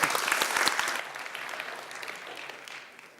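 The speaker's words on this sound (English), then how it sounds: "Another round of applause for Lucas," A room of listeners applauds a speaker after his talk, a burst of clapping that is strongest in the first second and then thins and fades away.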